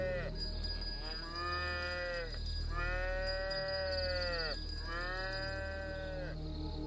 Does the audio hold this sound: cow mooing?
yes